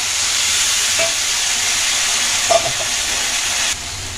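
Tomato, ginger and green chili paste frying in a pan with water added for a koi fish curry, a loud continuous hiss with a few faint clinks that cuts off abruptly near the end.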